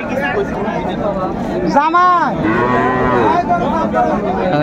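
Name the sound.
cows and calves mooing at a cattle market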